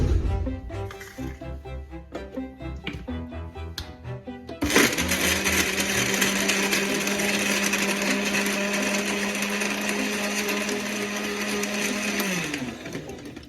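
A blender whirs loudly and steadily as it blends strawberry milkshake with ice cubes, a continuous motor drone running for about eight seconds after some clinking and handling at the start, then stopping.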